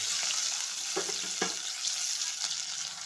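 Two large onions fry in a pan for an egg gravy while being stirred, a steady sizzle with a few distinct scraping strokes, close and moderately quiet.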